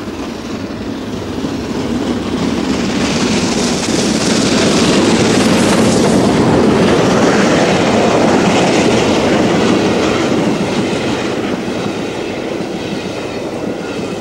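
Steam locomotive 4472 Flying Scotsman runs on the Marylebone main line toward Stratford in March 1986, a loud, continuous roar of train and wheels with clickety-clack rhythm that swells as it nears, then eases slightly, with no talking.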